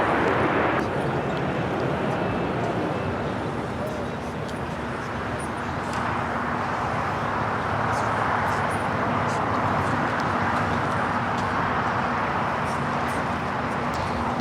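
An Airbus A330 cargo jet taking off at LAX: a loud, steady broadband engine roar sustained throughout, with a faint tonal hum beneath and no break in the noise.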